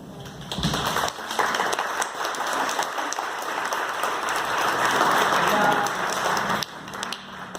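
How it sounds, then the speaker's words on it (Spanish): A congregation warmly applauds to welcome sister Patricia Valeria, a sustained, fairly loud burst of clapping that rises quickly, holds for several seconds, then drops off sharply near the end, with voices mixed in. "que recibamos con un fuerte aplauso a nuestra hermana Patricia Valeria"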